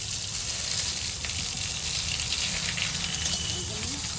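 Radhuni spice and chopped onion sizzling in hot oil in a pan, a loud, steady, close hiss that stays even throughout with no talking.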